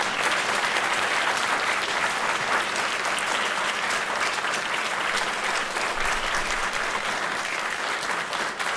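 Sustained applause from a school ceremony audience as teachers and staff stand, a steady dense wash of clapping held loud and even throughout.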